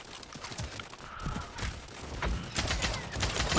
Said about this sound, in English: They're shooting us through the window.